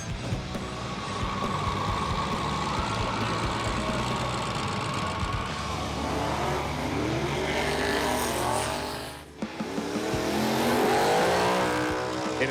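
A stripped-down truck roars off the line at a drag strip, its engine loud and revving hard for several seconds, dipping briefly, then surging again into a rising, high-revving run.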